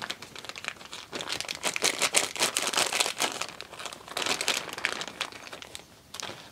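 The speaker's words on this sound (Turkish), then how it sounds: "Bu kutuyu da açalım." A cardboard box of replacement LEGO parts is opened, with steady crinkling, crumpling and tearing of packaging close by and no talking.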